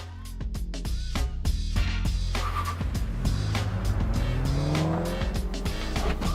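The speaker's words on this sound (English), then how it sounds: "it's go time as they blast off for their 2-lap race around Zwartkops" Race cars blast off the line at the Zwartkops circuit for a two-lap race, engines roaring loud and close with rising revs, gear-change steps and tire squeal, several machines overlapping as they accelerate away.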